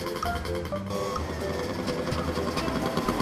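A cartoon motorbike engine revs and accelerates with a rapid, buzzing mechanical rattle, steady and fairly loud throughout.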